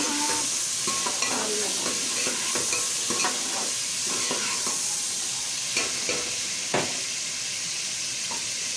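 Tomatoes fry in hot oil for spicy karahi chicken, giving a steady, dense sizzle throughout with scattered scraping knocks as a spoon stirs the pan, close and alone.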